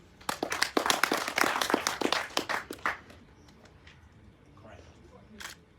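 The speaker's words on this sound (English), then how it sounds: "let's clap for ourselves" An audience at a launch event gives a short round of faint, scattered clapping that thins out after a few seconds, followed by quiet room sound and a brief voice.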